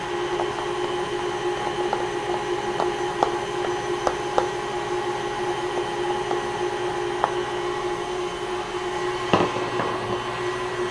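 Electric mixer beating alfajor dough with egg added, a steady whirring drone running throughout with a few light clicks and knocks, no voices.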